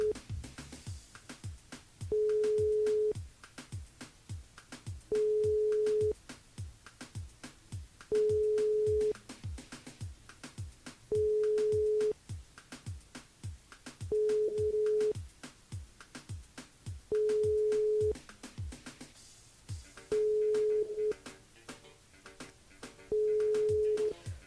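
Telephone line giving a repeated ring-back tone, regular beeps separated by silences with no answer, playing over a faint rhythmic background pulse.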